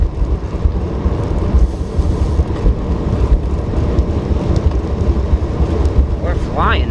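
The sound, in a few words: wind while bike commuting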